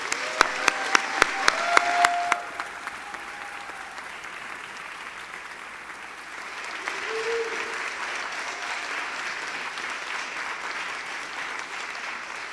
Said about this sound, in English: Let's all give a big round of applause for our colleague Antonio.